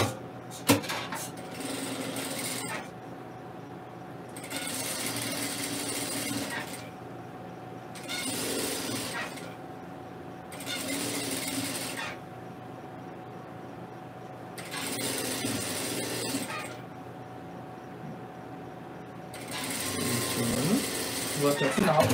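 A domestic sewing machine runs in five or six steady bursts of mechanical whirring as it stitches a seam to the end, with short quiet gaps between runs and a voice talking in the background.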